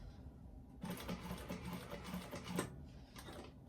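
A sewing machine runs steadily while stitching a bag, a dense mechanical whir that starts after a short quiet moment, continues for a few seconds and then pauses briefly near the end.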